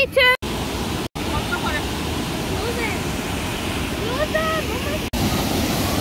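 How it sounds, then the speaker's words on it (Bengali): Constant rushing of a waterfall in Linn Park, Glasgow, a broad steady roar close by, with brief dropouts and faint birdlike chirps over it. "ঝর্ণার পানি যাচ্ছে।"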